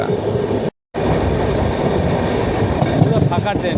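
A nearly empty moving passenger train on the Coochbehar to Kolkata run fills the space with a loud, continuous broadband rumble, broken by one brief dropout to silence early on.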